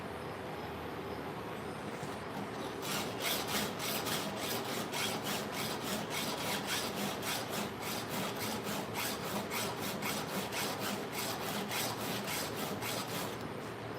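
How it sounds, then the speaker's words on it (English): A hand file rasps across a chainsaw chain in a steady series of quick, regular strokes that start after a brief quiet lead-in, close and continuous, with no talking. "Another thing with filing a chainsaw"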